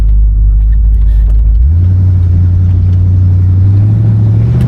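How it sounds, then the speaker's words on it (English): A 1972 Oldsmobile Cutlass convertible engine drones steadily, then its pitch climbs as the car accelerates, a loud close rumble heard alone with no one talking. "let's give it a little bit of gas. Get her up to about 45."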